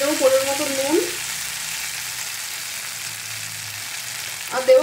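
Spices with ginger and garlic paste frying for a malai prawn curry, a soft steady sizzle in the pan while someone talks at the start and end.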